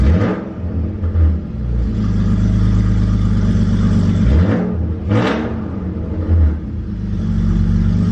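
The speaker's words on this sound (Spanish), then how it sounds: "Vámonos a las revoluciones y vamos a verlas. Suena muchísimo el coche" A BMW E46 engine that has just had its double VANOS rebuilt revs up and down several times in a rising and falling whir, loud and close, with a steady rumble between the revs.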